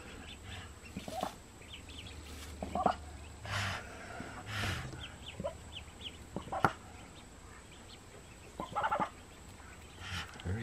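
A mother duck guarding freshly hatched ducklings gives sharp, scattered calls close by, short bursts spaced irregularly among quieter rustling and faint outdoor background.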